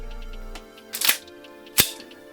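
A Modify Tyrant 2011 gas blowback airsoft pistol fires two sharp, close shots about a second apart, with gas running low, each a crisp snap over a quiet background.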